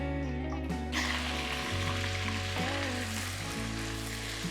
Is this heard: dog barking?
no